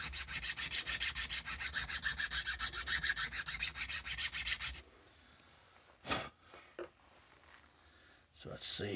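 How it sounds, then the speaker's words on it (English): A fine file rubs across a micarta pistol grip for a Girsan Regard MC, making quick rhythmic rasping strokes for about five seconds before they stop, followed by a few soft knocks and handling sounds. "And this is not a coarse file by any means, so we're not taking tons of material off it."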